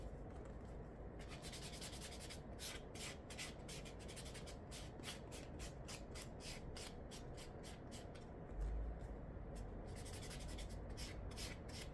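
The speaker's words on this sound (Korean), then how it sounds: "샌딩 블럭은 살짝씩 비벼주셔도 무관합니다." A sanding block rubbed over a fingernail during a nail technician exam routine, giving quiet, close, rhythmic back-and-forth scratchy strokes in bursts with short pauses.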